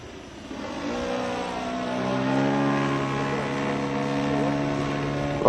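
A 68-inch Yak RC model airplane flies overhead, its engine giving a steady, droning whine that swells and shifts in pitch as it passes at moderate distance, with faint talk from onlookers.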